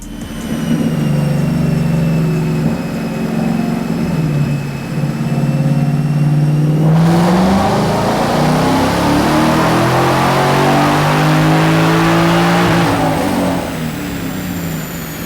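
A supercharged 2015 Ford Mustang GT with a Roush Phase 1 kit revs hard on a chassis dyno, its engine droning steadily, then climbing in pitch through a loud sustained pull with supercharger whine before settling back down.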